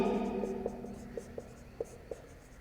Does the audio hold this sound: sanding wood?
no